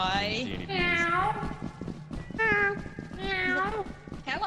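Several loud, drawn-out cat meows in a modded Lethal Company game, rising and falling in pitch, with voices chattering around them.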